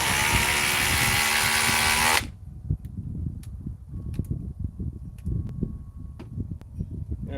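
A Metabo hammer drill runs loud and steady with a dense, buzzing whine, then cuts off abruptly partway through. Only faint ticks and low rumbling room noise follow.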